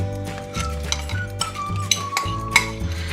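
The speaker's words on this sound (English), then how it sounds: "3 tablespoons of buttermilk and 1 tablespoon of treacle, and pop the mixture in." Buttermilk and treacle being mixed into a scone mixture in a bowl, with steady scraping and stirring and a few light clinks of a utensil against the bowl. A low tonal hum runs underneath throughout.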